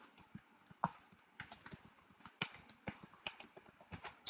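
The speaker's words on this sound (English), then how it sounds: "you will write your password" A password being typed on a computer keyboard, a quiet, close run of irregular key clicks with short pauses between bursts and a sharper tap at the end.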